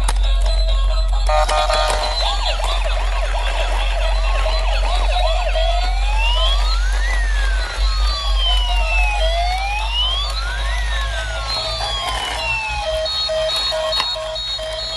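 A toy siren wails and warbles in rising and falling sweeps, alternating electronic siren patterns, loud and close over a constant low hum.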